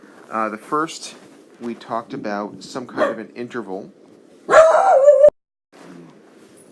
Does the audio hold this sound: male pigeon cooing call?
no